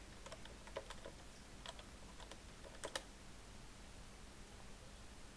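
Data is typed into a spreadsheet entry form on a computer keyboard, with faint, quick, irregular key clicks in short bursts over a steady background hiss, then a stretch with no keystrokes.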